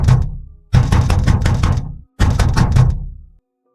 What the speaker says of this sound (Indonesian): tiba-tiba pintunya digedor-gedor